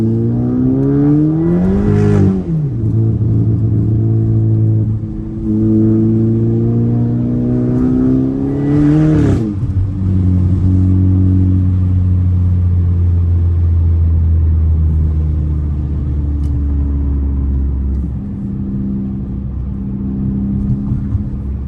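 Tuned Volkswagen R-Line car, heard close from the cabin, with a steady low exhaust drone and revs rising and falling a few times, loud throughout; the individual pops and bangs are not clearly separable.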